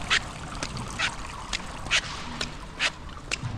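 Short, raspy duck-like calls repeat every half second or so over soft outdoor background noise, fairly close and with no talking.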